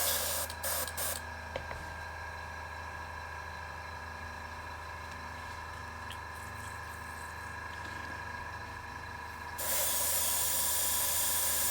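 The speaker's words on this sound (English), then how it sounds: "Spray that out." Steady airbrush hiss spraying Necromancer Purple paint runs close and constant, with a few faint clicks early on, then the spray grows noticeably louder and brighter near the end.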